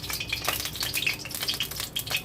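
Bay leaf, dried chilli, cumin and whole spices sizzle in hot mustard oil, a dense close crackle with bright little pops and spatters scattered steadily throughout.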